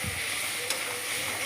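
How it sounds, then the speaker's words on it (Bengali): Radish greens fry in a pan with a faint, even, continuous sizzle heard close up and alone, without any talking. "ভাজা হচ্ছে।"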